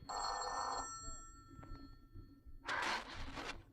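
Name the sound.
telephone ringing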